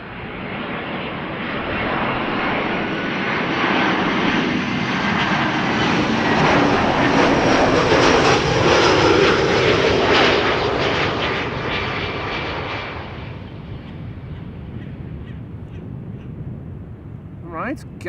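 An Air France Embraer 190 jet arriving at Amsterdam Schiphol passes as a broad engine roar that rises, peaks midway, then fades away, with a voice talking over part of it and a short squawk at the end.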